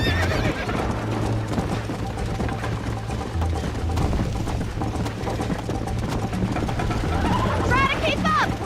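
Horse in the Red Dead Redemption video game neighing and whinnying over steady galloping hoofbeats, with a continuous busy game soundscape and voices talking throughout.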